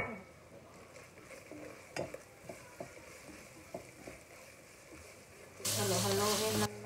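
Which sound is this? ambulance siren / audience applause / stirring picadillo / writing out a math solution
stirring picadillo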